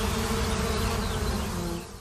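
Bees buzzing around officinal sage growing in a field at Valensole, a steady, dense drone of many insects close by with no pauses.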